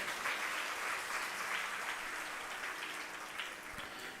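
Devotional discourse audience in a Hindi-speaking gathering claps steadily, a soft, continuous patter of many hands heard somewhat distant, fairly even throughout the few seconds without voices on top.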